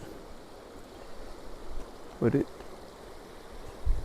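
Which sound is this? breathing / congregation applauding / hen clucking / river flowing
river flowing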